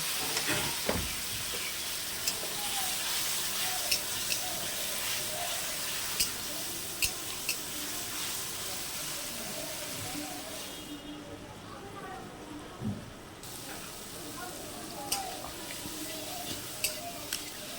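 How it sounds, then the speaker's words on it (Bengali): Soybean curry spices being sautéed in a pan after a splash of water, a soft continuous sizzle with occasional spatula scrapes and taps, moderately quiet and close. "সামান্য পরিমাণ কষার জন্য একটু জল দিলাম, দিয়ে কষে নেব ভালো করে।"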